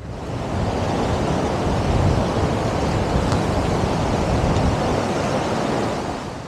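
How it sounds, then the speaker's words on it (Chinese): Strong wind gusting along the seaside at Blackpool, England, a steady close roar of broadband noise with a surf-like rush, holding constant throughout with no voices. "这里真的很大风"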